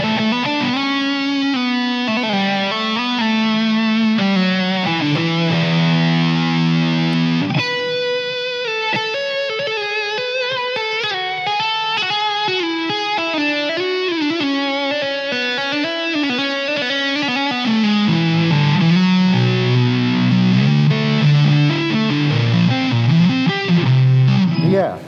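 Electric guitar through a Steve Stevens Grand Flash Phase phaser effect on a Line 6 Helix, playing a slow melodic passage with a subtle sweeping filter motion over sustained chords, loud and continuous with no speech.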